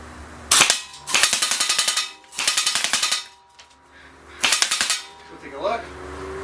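A Bolt B4A1 BRSS blowback airsoft rifle fires several short full-auto bursts, each a rapid run of sharp mechanical clacks with recoil, loud and close, separated by brief pauses.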